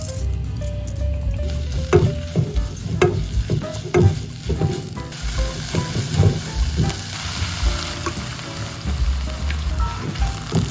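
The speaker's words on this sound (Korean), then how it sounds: "참기름이 없어서 들기름을 볶을 거예요" Perilla oil sizzles and crackles in a pan while dried pollock and seaweed are stirred, with scraping and clunks of a utensil recurring throughout.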